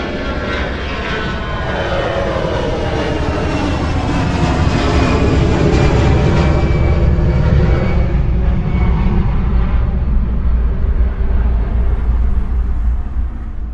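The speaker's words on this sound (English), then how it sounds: "reproducing the exact position of an airplane as it passes by, from taking off to flying directly overhead" An airplane takes off at an airport and passes directly overhead, a loud, continuous jet roar that swells steadily and then begins to fade at the end, played back as a cinema surround sound demo.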